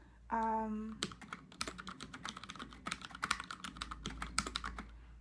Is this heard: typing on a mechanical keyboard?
yes